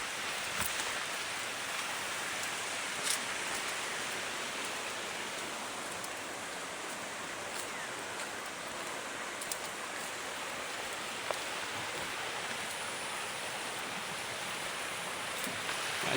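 Clear mountain stream running steadily, a constant broad rushing wash of water heard close and unbroken, with an occasional brief knock or splash.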